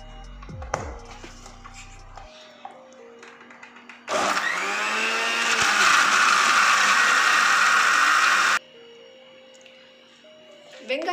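A mixer grinder whirs loudly for about four seconds, blending tomato, onion and garlic chutney with salt. The grinding starts abruptly, holds a high motor whine and stops sharply, with quieter kitchen handling sounds and a voice before and after.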